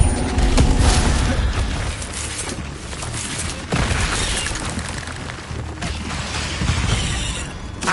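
An Incendio fire spell is cast in a Hogwarts video game, giving loud, sustained roaring and crackling bursts with booming swells and short dips, heard alone with no talk.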